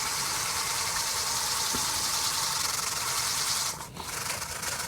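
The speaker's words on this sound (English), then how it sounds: "Kind of testing this pan out while I'm doing this pay dirt." Gold pay dirt swirled in a pan, a continuous loud gritty rubbing and washing hiss of gravel and water, with a brief dip near the end, no talk.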